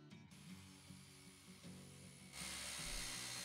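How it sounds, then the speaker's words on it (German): A circular saw runs at a sawmill in the game Depraved, producing a steady mechanical whir with a rhythmic grinding pattern that grows louder and brighter toward the end, with no talking. "das klingt mal alles sehr nach einer Kreissäge hier im Sägewerk"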